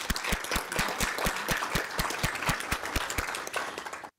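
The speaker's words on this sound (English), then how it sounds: "we can give him a round of applause." Audience applause at a school district governing board meeting, greeting a new elementary school principal; steady, dense clapping from a modest crowd that carries on for about four seconds before cutting off.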